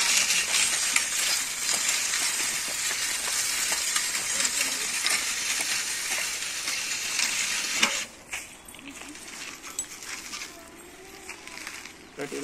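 A hand weeder plow made in Melur, Madurai district, is pushed through soil with a continuous rough scraping and rustling close by for about eight seconds, then drops to a quieter, sparser scratching.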